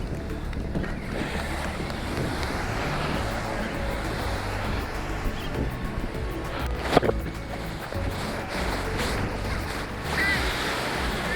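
Ocean surf breaking steadily at high tide along a Gulf beach at St Andrews State Park, Panama City Beach, Florida, a continuous close wash of waves with light wind noise and a brief louder splash midway.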